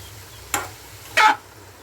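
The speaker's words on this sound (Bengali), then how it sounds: "এইভাবে মশলার সঙ্গে ভালো করে কষিয়ে নেবেন" Boiled banana flower is stirred with spices in a kadai, giving two short, sharp scraping sizzles against a quiet background.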